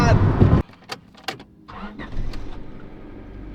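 The engine of a Honda Civic cranks and catches after a burst of loud noise, then settles into a low, steady idle with a few clicks and knocks close by.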